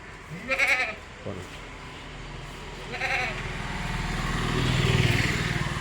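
Billy goats bleat a few times, a couple of wavering calls close by, over a low outdoor rumble that swells toward the end, at a livestock sale.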